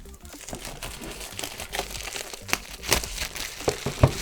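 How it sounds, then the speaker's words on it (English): Blunt scissors cut into cellophane wrapping on a DJI OM 4 smartphone stabilizer box, a steady stream of close crinkling and crunching with sharper snips and crackles toward the end, no talking. "start cutting into the cellophane with my blunt scissors"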